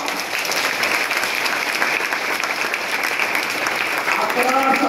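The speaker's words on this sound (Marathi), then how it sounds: "दोन्ही हात वर करून टाळ्यांचा प्रचंड कडकडाट" A crowd claps loudly and continuously, a dense, sustained burst of applause that carries through the whole clip, with a voice faintly audible near the end.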